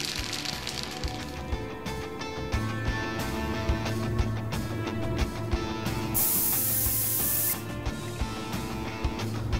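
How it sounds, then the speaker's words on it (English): Aerosol spray can hissing in bursts while cleaning a weapon in Prison Simulator, a steady near hiss laid over game music with a brighter blast near the end. "Shake the spray."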